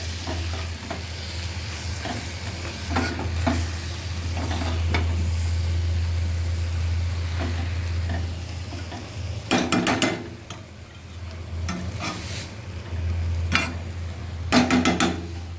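Dried small shrimp (sukha jawla) stirred and fried in a pan, giving a steady close sizzle with scraping spatula strokes and a few louder clattering bursts near the end, no talk.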